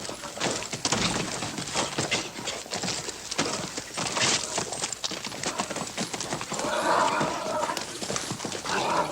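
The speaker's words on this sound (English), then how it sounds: "very good job of horse wrangling" Horses being wrangled in a western scene, a busy continuous clatter of hooves clip-clopping close by, with scattered animal noises and a whinny-like cry rising near the end.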